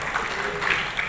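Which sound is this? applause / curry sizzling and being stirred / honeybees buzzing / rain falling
applause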